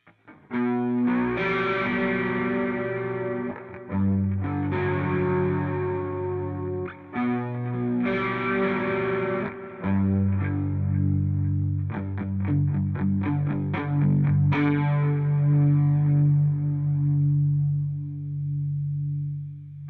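Electric guitar through a Spark 2 amp with a shimmering chorus effect and some drive, strummed chords and picked notes ringing out, loud and continuous with brief gaps.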